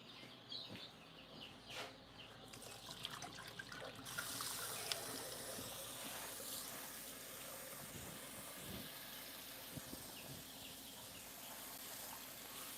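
Cool water runs from a tap for baby chicks in a coop during morning chores, a steady broadband rush that swells after a few seconds and continues throughout, with faint chick peeps and clucks around it.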